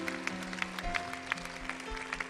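A congregation applauds at a church service in Rouen, with scattered rhythmic claps ringing over sustained music tones, moderately loud and steady.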